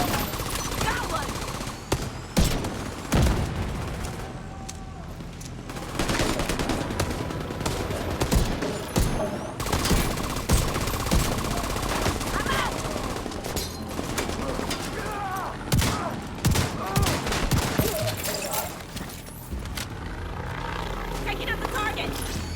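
Dense gunfire in The Division 2 (Warlords of New York), with rapid bursts and individual shots layered over a loud, continuous battle soundscape, while voices call out over the action.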